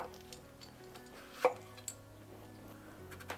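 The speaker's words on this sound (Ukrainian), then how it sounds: "Потрібно нарізати огірок" A knife chops cucumber on a cutting board in a few scattered, soft taps, close by and quiet, with no one talking.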